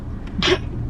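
A single short, close sneeze bursts out sharply against a quiet indoor background, with no talking around it.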